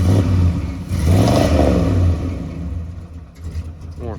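An Onan generator on a 1978 Chevy RV runs rich, giving off black smoke as it drones loud and close, its engine note rising and then easing off toward the end.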